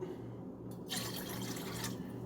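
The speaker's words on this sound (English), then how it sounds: "I'm going to pour a little bit out more just to be safe" Apple juice pours out of a gallon jug in a steady liquid stream with a gurgling splash, fairly close and continuous, rising briefly as the flow surges.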